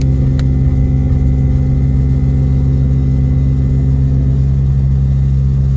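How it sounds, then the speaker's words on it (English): An air compressor runs continuously near a road in snowy Big Bear Lake, California, a loud, close, unbroken low motor drone with steady humming tones throughout. "I'm sorry that air compressor is going to be annoying for about 5 minutes"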